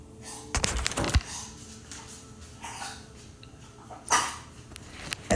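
A dog with kennel cough gives a few harsh hacking coughs and gagging bursts, fairly close in a quiet room, with pauses between the fits and no talking.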